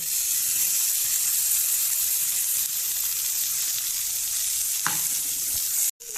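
Mustard paste with reddened green chilies goes into hot oil in a pan, giving a loud, continuous hissing sizzle with a brief clatter near the end.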